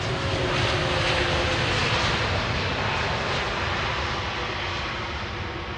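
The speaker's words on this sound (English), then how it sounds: "KLM flight 696 has arrived." A KLM passenger jet arriving at Amsterdam Schiphol Airport, a loud broad engine roar that stays steady and slowly eases off as the aircraft lands.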